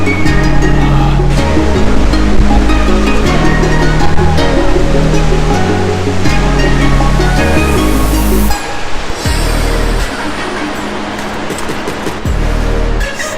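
Loud, constant roar of a waterfall heard up close, a dense rushing wash of water that stays steady throughout and shifts slightly partway through, with no voices.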